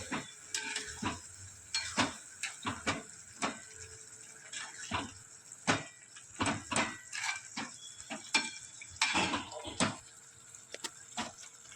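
A spoon scrapes and clanks rhythmically against a cooking pot while dal palak with salt is mixed, a soft simmering hiss beneath the repeated metallic strokes.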